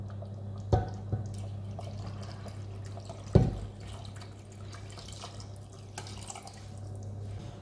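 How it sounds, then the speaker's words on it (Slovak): Water trickles and drips into a pot of tomato soup made with sautéed base, tomato paste and peeled tomatoes, a steady close liquid pour with a couple of louder splashes, alone without talk. "a celé to podlejeme vodou."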